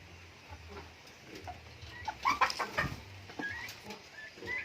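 A mother hen on a Philippine broiler farm gives a run of soft, irregular clucks, faint and close-ish, with a few brief higher calls of other birds in the background and no talk.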